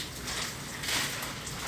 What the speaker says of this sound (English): That is the sound of parchment, by the way.